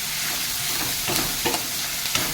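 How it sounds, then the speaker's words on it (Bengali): Potatoes sauté in a pan while a spoon stirs them, giving a steady close sizzle broken by a few sharp scraping strokes near the end. "আমি আলুটাই কষাবো"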